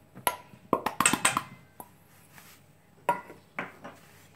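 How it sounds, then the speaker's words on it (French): Flour and baking powder being mixed in a bowl for coquins, with scattered clinks and scrapes of a utensil against the bowl in short bursts, quiet with pauses between. "La première étape, c'est de mélanger la farine et la levure chimique."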